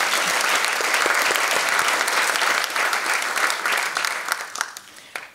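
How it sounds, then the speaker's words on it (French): A gala audience breaks into applause for the evening's achievements, a dense, loud clapping that thins out and tapers off over the last second or two. "Je pense que ça mérite une bonne main d'applaudissements pour toutes ces réalisations."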